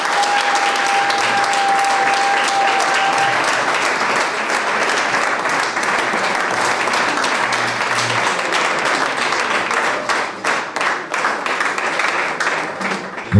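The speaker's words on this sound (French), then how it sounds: "Est-ce que vous pouvez applaudir?" An audience at the final of an eloquence contest in Kolwezi claps continuously and loudly for a finalist, a dense sustained applause that thins slightly toward the end.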